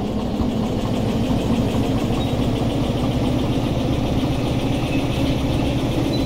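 Diesel locomotive engine in the Derail Valley train simulator throttling up, a steady loud low rumble with rhythmic chugging pulses that holds continuously throughout, no voices over it.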